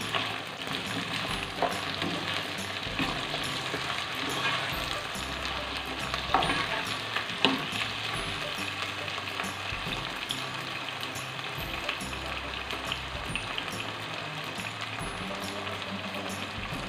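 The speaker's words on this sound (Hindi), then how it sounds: "अरबी को फ्राई कर लेना है।" Taro root (arbi) fries in a pan with a continuous, even crackling sizzle that stays at a moderate level throughout, with a couple of faint clinks partway through and no talking.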